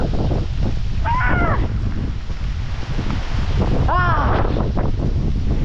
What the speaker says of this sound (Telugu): Water falls, Nambi water falls.